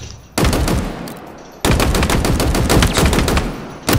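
Loud automatic rifle fire with heavy recoil in Halo Infinite, two long sustained bursts of rapid shots close up, separated by a brief quieter gap.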